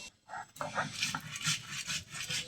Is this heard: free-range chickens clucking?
no